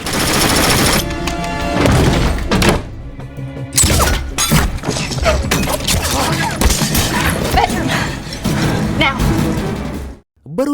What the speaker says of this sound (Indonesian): mereka diberondong tembakan oleh sekelompok orang misterius